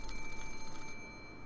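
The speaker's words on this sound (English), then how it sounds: "At that time, the phone rang." A telephone rings in the Umineko no Naku Koro Ni Chiru visual novel, with a fast trilling electronic ring that sounds for about a second and then cuts off, fairly soft and heard alone.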